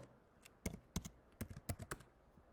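Typing on a computer keyboard: a short, irregular burst of about a dozen crisp keystrokes, some in quick pairs, close and quiet with nothing else heard.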